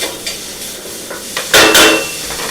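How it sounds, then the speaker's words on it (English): Onions sautéing in a pan for pizza topping, with soft sizzle under clattering stirring, a few light utensil knocks and a louder burst of scraping toward the end, close by and wordless. "let's go ahead and put the onions in. And we're going to saute these"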